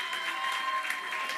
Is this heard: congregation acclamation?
yes